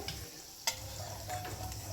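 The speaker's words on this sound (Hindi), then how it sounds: "फिर मैंने थोड़ा उबले हुए आलू लिए जिसे मैंने हल्का सा फ्राई कर लिया था।" Boiled potatoes lightly frying in a pan in a home kitchen, a soft steady sizzle with a single sharp clink of a utensil, quiet and close with no talking.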